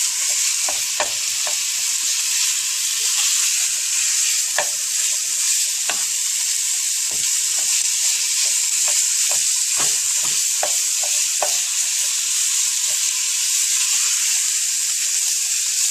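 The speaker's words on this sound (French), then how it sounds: "on va bien écraser la viande, histoire qu'elle ne reste pas en un bloc" Ground beef for a lasagne bolognese fries in a pan while being mashed into small pieces: a constant bright sizzle close by, with repeated scraping taps of the utensil against the pan.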